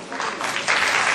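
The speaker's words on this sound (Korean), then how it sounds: "박수를 치시오." Applause from a seated audience at a Korean technology conference session on Windows 8 development, a dense steady patter of many hands clapping that swells slightly toward the end, with no voices over it.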